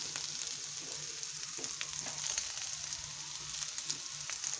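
Thinly sliced cabbage frying in a hot pan, a quiet, steady sizzle and crackle with faint scattered pops throughout.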